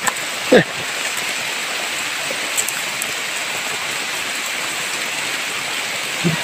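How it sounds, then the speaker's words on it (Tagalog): Heavy rain pouring steadily, a dense constant hiss of drops on surfaces with a couple of brief knocks, close and loud, without talk. "Grabe yung ulan."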